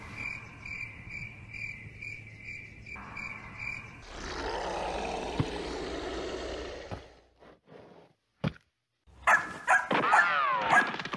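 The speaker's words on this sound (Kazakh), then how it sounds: "О, ит қуып кетті, мынауын деген шапты ғой." A dog in the video game Free Fire barks and yelps in a short burst of sharp calls near the end, after a stretch of steady insect chirping and game ambience.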